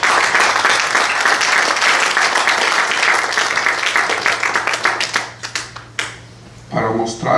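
A church congregation applauds during a gospel sermon, loud sustained clapping that thins into scattered claps before a voice speaks at the close.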